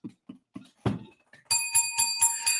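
A bell struck several times in quick rhythmic succession, bright ringing tones overlapping after a few soft thumps and a louder knock, close and without talk.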